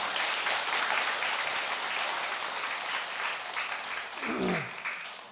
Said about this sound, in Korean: 그 스님 대신 박수 한번 치라고 좀.